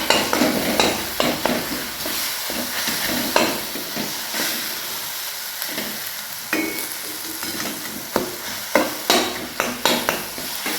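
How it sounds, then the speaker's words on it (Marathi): Eggplant being stirred into a hot pan for baingan bharta brings loud, near scraping and stirring strokes over a continuous sizzle, with irregular clanks of a spoon against the pan. "आता आपल्याला वांगा या प्रकारे ह्याच्यामध्ये मिक्स करायचं"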